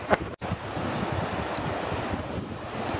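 Mediterranean surf washes onto the beach at Apollonia between Herzliya and Netanya, a continuous broadband roar of waves mixed with gusting wind buffeting the microphone, with one brief sharp dropout near the start.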